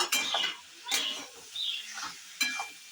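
Capsicum and fried dough pieces being stirred in a pan for Kashmiri dhoka, with several scraping, clattering strokes against the metal over a soft sizzle, close and fairly quiet.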